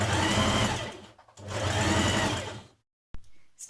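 A sewing machine stitches coat lining pieces in two steady, loud whirring runs with a short pause between, then stops abruptly, followed by a brief click and quiet.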